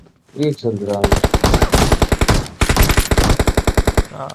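Rapid bursts of automatic gunfire rattle loudly and continuously, with a short pause midway, sounding like game weapons firing up close.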